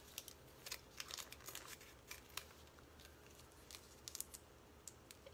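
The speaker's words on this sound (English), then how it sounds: "I'm going to make just a few little snips to make it easier to fold" A few small snips from scissors, faint and close, come as light crisp cuts spaced through a quiet room.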